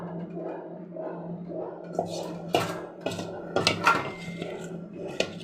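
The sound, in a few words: small child pulling plates out, plates clattering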